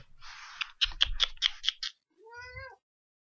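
A house cat makes a series of rapid scratchy, clicking sounds close to the microphone, then gives one short rising meow, in a quiet indoor room.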